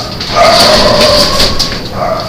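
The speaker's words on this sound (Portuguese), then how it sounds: "Deixa eu fechar a porta aqui que começaram a cachorrada" A pack of dogs barking frantically nearby, a continuous yapping, howling din that sounds slightly muffled, as if beyond a door, loud and unbroken for the whole stretch.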